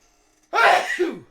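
A single violent human sneeze, one sharp loud explosive burst followed by a brief trailing exhale, close and alone after a near-silent start.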